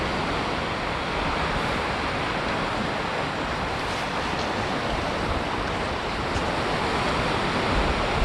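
Steady, loud roar of sea surf rolling onto a beach on a fresh day, a dense continuous wash of breaking waves with some wind across the microphone and no voices.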